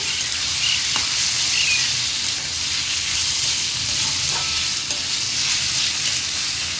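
Chopped tomatoes sauté in hot oil with onions for a kokum curry. A dense, steady sizzle is heard up close and alone, with faint taps from stirring.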